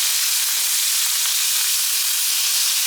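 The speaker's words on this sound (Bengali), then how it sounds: "মাছ ভাজা প্রায় শেষ।" Foli fish fry in a pan, giving a loud, dense, steady sizzle of hot oil that holds evenly throughout without any talking.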